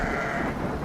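Sheep bleat in the fantasy video game The Black Grimoire: Cursebreaker, a steady wavering animal cry sounding close and fairly quiet, alone without talk.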